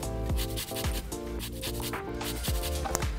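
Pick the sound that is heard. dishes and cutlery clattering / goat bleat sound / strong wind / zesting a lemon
zesting a lemon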